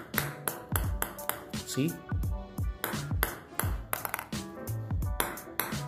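A Butterfly 40 Plus table tennis ball bounces in rapid, bright pings, repeated many times at an uneven fast rhythm, close and crisp, with a person speaking briefly.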